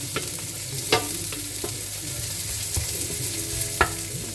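Chopped onion sizzles in a pan while cooking, a low, steady fry broken by several sharp clinks and scrapes of a utensil stirring against the pan.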